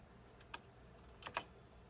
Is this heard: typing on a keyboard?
yes